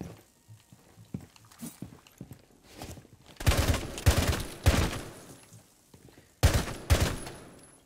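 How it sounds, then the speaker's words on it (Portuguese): Bursts of gunfire in a Rainbow Six Siege shootout, with loud clustered volleys of several rapid shots after quieter scattered footsteps and small impacts at the start. "Começou já o tiroteio."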